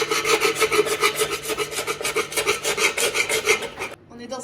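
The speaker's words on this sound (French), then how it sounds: "On est en train de poncer les étagères pour les peindre" Wooden shelves sanded by hand on a work site, a steady rhythmic rasp of strokes going back and forth, close and loud, stopping abruptly near the end.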